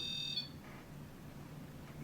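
A REM pod alarm sounds during a ghost investigation, a short high-pitched electronic beeping tone at the very start that cuts off quickly, followed by a quiet room hum.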